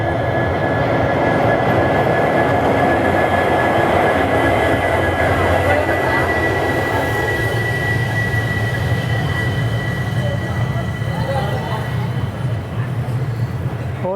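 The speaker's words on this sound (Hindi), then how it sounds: "4:55 पर हमारी ट्रेन पहुंची है हॉस्पेट जंक्शन।" The Vasco da Gama Tirupati Express arrives at Hospet Junction with a loud, steady rumble of rolling wagons and a sustained tonal whine, heard from on board with a little faint background talk.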